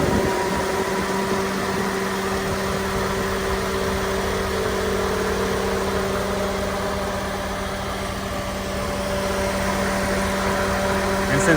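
Twin electric engine cooling fans on an early-2000s Chevy Tahoe run on high with the A/C on, a steady broadband whoosh with constant humming tones, close and unchanging throughout.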